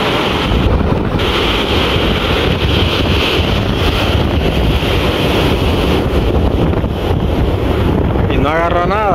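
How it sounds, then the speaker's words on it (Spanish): Ocean waves break and wash close to shore in a continuous rushing roar, with wind buffeting the microphone throughout. "ahí le caen las olas muy cerquita"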